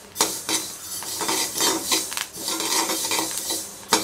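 Finger millet (ragi) dry roasting in a pan, stirred with a metal spoon that scrapes and clinks against the pan in repeated strokes, with a soft grainy rustle between them, close and fairly loud, no talking.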